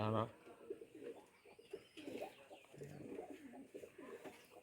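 A Kaldam female pigeon gives soft, rolling coos in short repeated bursts nearby, after a brief sharp sound at the start.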